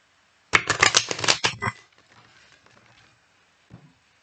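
Playing cards riffle-shuffled close up in a quick crisp burst of rapid flutters, then a few faint soft taps and a final brief shuffle sound after a pause.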